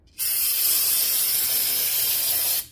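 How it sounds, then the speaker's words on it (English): A steady, continuous aerosol spray of brake cleaner onto the transmission pan of a 2010 Volkswagen Jetta 2.5L hisses loudly and close for a couple of seconds, then cuts off abruptly. "I'm just going to spray it down and wipe it down and clean with the brake cleaner"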